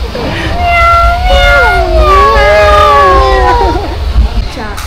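A voice imitates a cat with drawn-out, wavering meows, loud and close, rising and falling over about four seconds. Crowd babble runs faintly behind it at a busy indoor amusement park.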